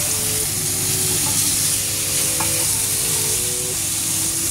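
Black fungus mushrooms sizzle steadily in a hot pan while they are half-cooked for mala, with a dense, continuous frying hiss and occasional faint clinks of stirring.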